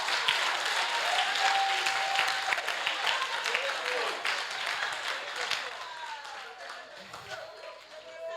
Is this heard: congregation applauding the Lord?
yes